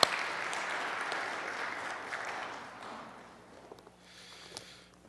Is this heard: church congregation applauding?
yes